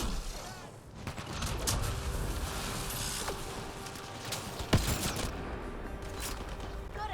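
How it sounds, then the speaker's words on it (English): Gunfire from the video game Mass Effect Andromeda rattles along in a chaotic firefight, with dense crackling bursts, a sharp louder shot near the end and mechanical clatter underneath. "Just fire at anything, everything. Just shoot them."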